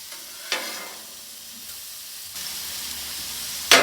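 Steak for fajitas sizzles steadily on a grill, cooking toward well done, with a constant bright hiss broken by a few sharp crackles and pops, including a loud spit near the end.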